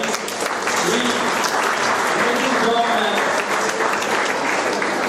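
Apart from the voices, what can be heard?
audience clapping for a participant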